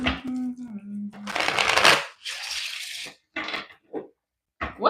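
Tarot cards are shuffled in a few quick riffling bursts close by, with short pauses between them, after a brief voiced tone at the start.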